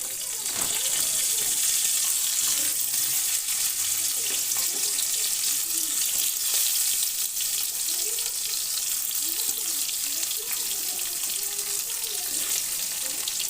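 Cut and cleaned crabs fry in hot oil, a steady loud sizzle running throughout with occasional stirring and clatter, no talk.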